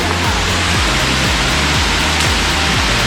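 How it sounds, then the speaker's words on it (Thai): Rain falls at a forest waterfall in a Thai national park, a loud, dense and steady rush of water that fills the whole stretch without pause. "แต่ฝนยังตกอยู่"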